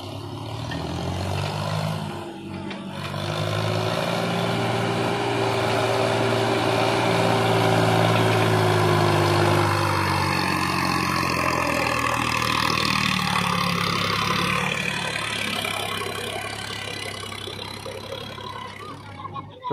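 Eicher tractor engine straining and revving hard at full throttle while hauling a heavy load of soil, a steady loud low rumble lasting throughout with rising pitch in the middle, voices faintly mixed in.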